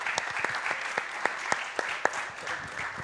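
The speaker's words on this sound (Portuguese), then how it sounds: "Uma salva de palmas para ela." Audience applause for Susana at a sports congress in Sardoal, a fairly sparse round of clapping with a few sharper individual claps standing out, steady for about three seconds.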